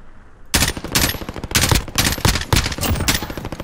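Rapid bursts of automatic gunfire in Call of Duty Modern Warfare 2, loud and close, firing in quick repeated volleys after a brief quiet start, with no talking.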